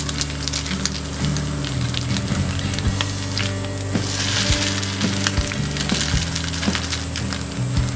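A dessert frying in a pan over reduced heat, a loud, continuous close-up sizzle with occasional crackles and a steady background hum, no voices.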